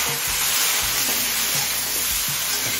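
Mixed vegetables frying in a pan with salt, a loud, steady sizzling hiss with occasional low knocks of stirring against the pan, close up and continuous, with no talking.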